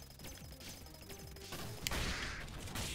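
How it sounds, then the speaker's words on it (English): A shotgun fires in the 2D game Iconoclasts, with a sharp blast and a louder crashing burst that follow earlier lighter game effects. The sound is fairly close and quiet overall. "I also shotgunned him"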